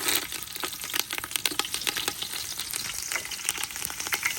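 Sliced onions sizzle and crackle in hot oil in a pan, a steady bright frying hiss broken by frequent sharp pops and the odd scrape of stirring, cooked outdoors for a feast among friends.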